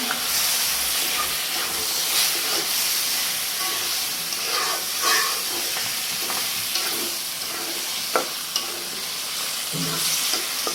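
Broiler chicken bhuna being stirred in a pan, with a steady close sizzle and hiss of frying under scraping and clinking of the spoon, continuous and fairly loud with no talking.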